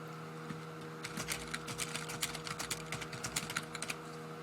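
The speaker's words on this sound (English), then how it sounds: "as I'm typing here" Rapid keystrokes on a computer keyboard while entering text into Notepad, a quiet patter of clicks starting after a second and running in uneven bursts over a steady low hum, with no voices.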